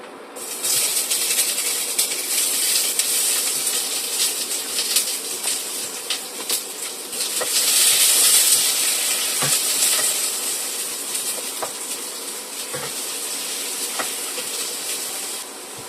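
Onions drop into a hot pan for Filipino pork afritada, setting off a loud, steady sizzle and hiss up close, with a few faint clicks and stirring knocks scattered through the frying.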